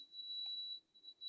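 A galvanic spa skincare device gives a single steady electronic beep signalling its cycle has finished, a clean sustained tone lasting most of a second before trailing off, with no talk.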